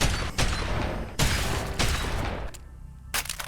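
Shotgun blasts in Fallout New Vegas played in VR: several loud, booming shots spaced about a second apart, with mechanical clatter between them and a short quiet pause near the end.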